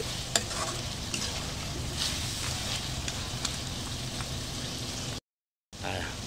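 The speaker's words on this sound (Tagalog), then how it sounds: "unti-unti na naluluto yung ating chicken pastel" Chicken pastel cooking in a pan, a continuous crackling sizzle with scattered sharp pops and occasional stirring scrapes, steady at moderate level for several seconds.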